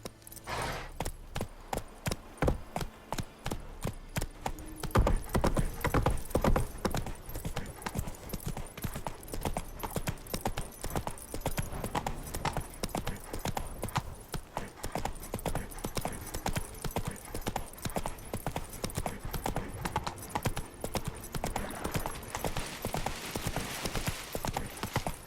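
Horse hooves gallop at a steady, rapid rhythm in The Witcher 3, clattering continuously and close up throughout, with a brief call and faint game ambience behind.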